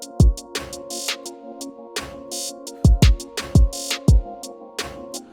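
Crystallis synth pad from Morphin in a trap and hip hop melody: a sustained, chord-like pad holds steady throughout, layered under a loud beat of punchy booming kicks and crisp bright hits.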